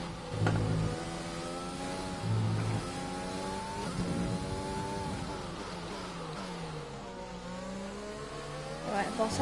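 Mercedes Formula 1 engines in the F1 2020 racing game, a steady high-pitched whine with rising and falling pitch sweeps as the cars accelerate and brake, loud and close throughout, with a voice speaking faintly underneath.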